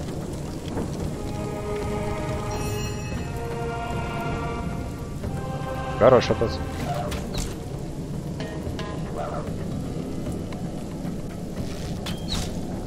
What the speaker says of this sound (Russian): То есть он призвал дождь, зачем?